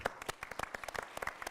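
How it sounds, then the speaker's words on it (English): Applause for a corporate sponsor at a business event on minority business week, a modest scattering of distinct claps from a smallish audience, fairly quiet and somewhat distant. "join me in giving another round of applause to Denso"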